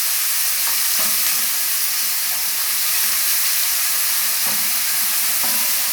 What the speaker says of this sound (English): So we're going to allow this to fry where basically all the ingredients will begin to sweat.